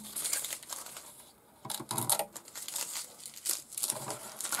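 Bean cloth being peeled off a 1/6 scale model tarpaulin for a 1941 Jeep trailer, giving crisp intermittent crinkling and tearing rustles close by.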